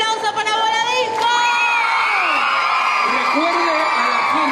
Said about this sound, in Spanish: un fuerte aplauso para Voladisco